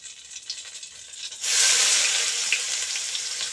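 Chopped onions hit hot ghee with bay leaf and whole chilli already in the pan, bursting into a loud, sustained sizzle after a quieter moment.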